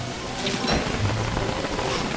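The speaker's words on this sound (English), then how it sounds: "Rain's almost over anyway." Rain falling in the video game Don't Starve, a steady broadband hiss that holds at an even, fairly loud level throughout with no talking.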